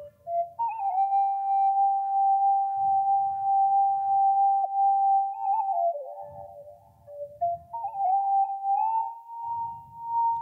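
Flute patch on a Roland MC-707 groovebox run through an effect, a sustained wavering melodic line with pitch bends held steady and loud throughout, alone, with faint low rumbling bursts recurring underneath.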